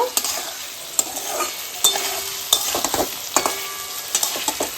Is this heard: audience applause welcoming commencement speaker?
no